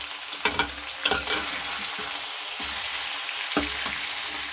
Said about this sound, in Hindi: प्याज हो गया, अब शामिल कर देते हैं मुर्गी की गर्दने।